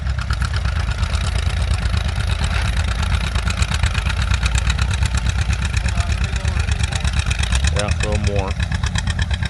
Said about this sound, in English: I hear the John Deere Aa popping, coming back.